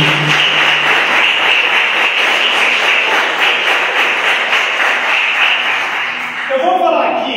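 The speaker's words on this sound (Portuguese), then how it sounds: "Palmas para Jesus." Church congregation at a Christian community service claps loudly and continuously, a dense rhythmic wash of hands with voices over it, easing off at the end as speech resumes.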